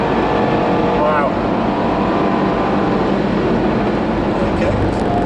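A 600 PS Jaguar XE SV Project 8 drives on a race track, its engine a steady, loud roar with a brief rising pitch early on and continuous road and wind noise throughout.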